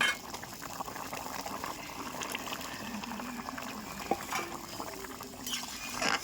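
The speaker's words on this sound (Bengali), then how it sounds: "আর ঝোলটা কি সুন্দর ফুটে গেছে" Fish curry broth with prawns bubbling at a steady boil in a pot, a continuous soft seething and bubbling texture with occasional small clinks, fairly close and moderately quiet, with no talking.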